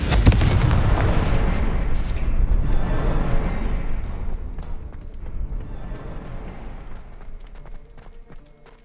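The Confringo fire spell from Hogwarts Legacy, played on PS4, sets off a loud, booming explosion. A heavy blast opens it, followed by crackling debris and a rumble that slowly fades over several seconds.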